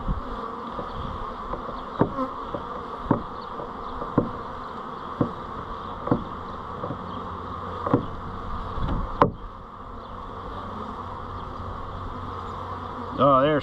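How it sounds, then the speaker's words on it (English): Bees buzz continuously close by during a swarm trap cut-out, a steady droning hum with occasional sharp taps and knocks. "Crazy darn bees."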